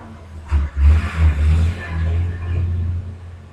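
Trucks pass outside with a deep, rumbling engine drone, swelling loudest early on and then easing off into a steadier low hum.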